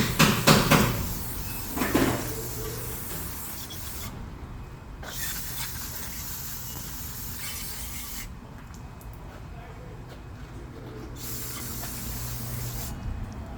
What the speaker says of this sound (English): Spray some brake cleaner.